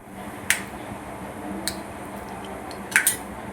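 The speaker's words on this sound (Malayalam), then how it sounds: "കടുക് പൊട്ടി വന്നിട്ടുണ്ട്." Mustard seeds spluttering in hot oil for a beef curry, a few sharp, sparse pops and crackles close up over a low background hum.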